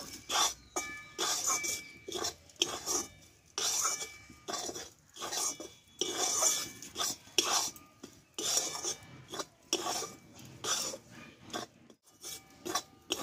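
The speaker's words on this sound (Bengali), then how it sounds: "চিনিটা দিয়ে ভালোভাবে আমি নাড়িয়ে নেব।" A spoon scrapes and stirs sugar through ghee-fried puffed rice powder in a pan, a quick rhythmic run of gritty rasping strokes with short pauses between bursts, close and fairly loud, with no talking.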